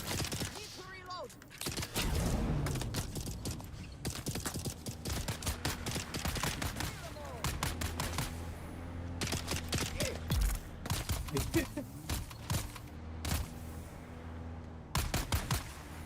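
Rapid bursts of gunfire from the video game Dune, dense automatic fire and repeated shots crackling throughout, with people talking over the battle.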